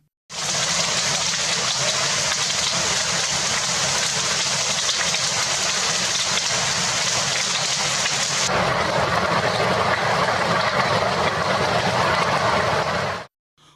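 Heavy rain lashing down with strong wind in Coimbatore, a steady, loud, unbroken roar of water and gusts with no talking.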